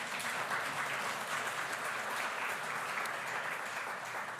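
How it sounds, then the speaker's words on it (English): Sustained audience applause filling a conference hall, dense steady clapping from a large crowd throughout, loud and even with no talk over it. "Another big round of applause, friends and relatives."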